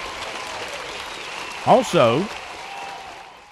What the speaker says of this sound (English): Can I get a little round of applause for the Latta High School?